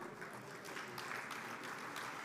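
Audience at a formal Ibero-American summit event applauding an ambassador, a steady, distant patter of many hands clapping at low volume without pause.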